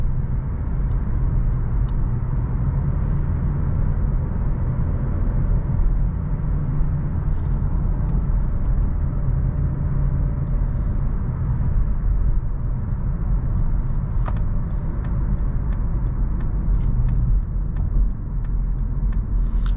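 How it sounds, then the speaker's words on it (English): Steady low road rumble and tire noise inside a 2020 Mazda 3 Premium while driving, continuous and moderate, with faint ticks and clicks in the cabin. "I do hear a little bit, like a slight amount of road noise, but quieter than I thought it would be."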